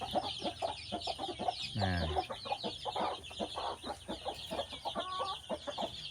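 Chickens in a coop cluck and squawk steadily nearby, with one louder rising call standing out among the busy, overlapping clucking.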